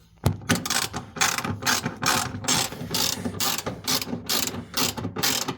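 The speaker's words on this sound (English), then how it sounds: "you're going to obviously tighten up your" Ratchet tightening a carriage bolt on a Stern pinball backbox, with rapid bursts of close, loud clicking in repeated strokes separated by short pauses.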